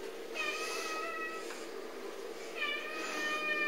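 A cat meows twice, drawn-out tonal calls fairly close and moderately loud, separated by a short pause over quiet room noise.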